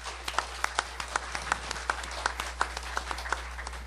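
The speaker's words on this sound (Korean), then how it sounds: "우리 발제하실 정병준 교수님께 우리 박수로 격려해 주시기 바랍니다." A seminar audience offers sparse applause for a professor about to present, a thin scattering of individual claps with distinct sharp hits, set against a low steady hum in the room.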